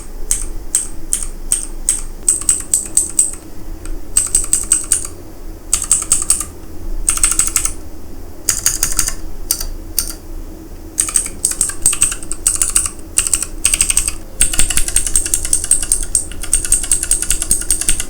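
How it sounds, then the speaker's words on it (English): Rapid clicky keystrokes on a 1STPLAYER DK5.0 Lite TKL mechanical keyboard with blue switches, close and crisp, typed in fast bursts separated by short pauses over a steady low background hum. "I really don't like the clicking sound of this blue switch"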